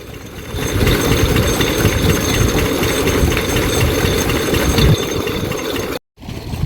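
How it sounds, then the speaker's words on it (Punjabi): A two-stroke diesel engine runs loud and steady with a rapid mechanical chatter, then cuts out abruptly for a moment before resuming. "ਦੋਸਤੋ ਪਿੱਛੇ ਇੰਜਨ ਚੱਲ ਰਿਹਾ ਦੇਖ ਸਕਦੇ ਹੋ ਦੋ ਬੀਲਾ"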